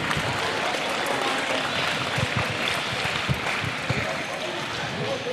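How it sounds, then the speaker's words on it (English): A crowd applauds steadily at a netball grand final, a dense sustained clapping that holds at an even level throughout, with some voices mixed in. "A round of applause once again for Fair Park."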